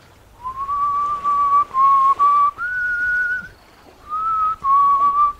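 A person whistles a melody of sustained clear notes, a few pitch steps rising and falling, in distinct phrases with short gaps between them, close and fairly loud with no talking.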